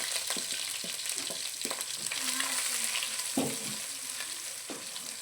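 Onions and curry leaves fry in hot oil in a pan for a fish curry, sizzling steadily with scattered scraping knocks from stirring and no talking.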